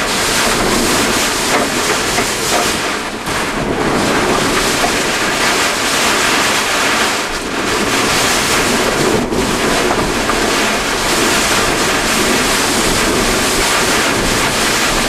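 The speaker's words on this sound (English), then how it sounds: "Water from the Gulf of Mexico was beginning to spill over the SUV as the brunt of Hurricane Ivan came ashore in Gulf Shores." Hurricane Ivan's storm surf and roaring wind batter the Gulf of Mexico shore at Gulf Shores, a loud, continuous wash of crashing waves and buffeting wind noise filling the whole stretch, with brief dips in intensity.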